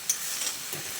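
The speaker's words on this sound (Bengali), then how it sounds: "এবার টমেটো আর নুনটা দিয়ে ভেন্ডির সঙ্গে ভালো করে নেড়ে চেড়ে মিশিয়ে নিতে হবে।" Okra, tomato and salt sizzle in a frying pan while being stirred. A brief, steady frying hiss plays close up with faint scraping.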